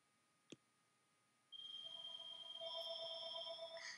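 After a single click, a faint electronic telephone ring sounds as a steady warbling tone with layered pitches, continuing for a few seconds indoors.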